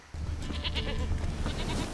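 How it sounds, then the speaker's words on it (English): A goat bleats in The Witcher 3: Wild Hunt, a short wavering cry heard close and clear over a low game ambience. "I hear a goat this way."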